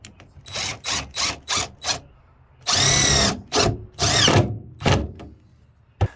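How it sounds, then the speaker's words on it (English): A power drill drives Tech screws into roofing battens on a Fiat Ducato van floor. It runs in several short bursts, then one longer whirring run and a few more brief pulses, close and loud with no talk. "I secured the roofing battens down using a combination of instant grab adhesive, Tech screws"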